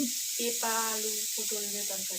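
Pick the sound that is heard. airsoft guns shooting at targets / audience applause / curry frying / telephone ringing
curry frying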